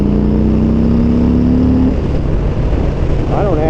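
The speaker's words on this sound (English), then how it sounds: "That Harley Davidson sound that everybody loves" A Harley-Davidson M8 Lowrider with aftermarket pipes rumbles loud and close, rising in a rev, then dropping back into a lumpy, pulsing idle.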